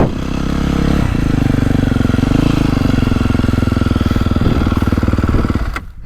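A 2024 Beta 450RX four-stroke motocross bike engine runs loud and close with a steady pulsing thump, holding a fairly even rumble before cutting out abruptly near the end.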